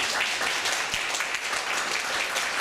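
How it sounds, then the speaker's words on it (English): An audience applauds a 16-year-old flute player named Amy at a ceremony, steady dense clapping filling the room for a few seconds without a break. "Let's give her a round of applause"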